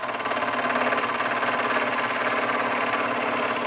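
A milling machine takes a conventional cut with solid carbide tooling, giving a steady, dense mechanical whir with fine rhythmic chatter, close and continuous throughout without pause.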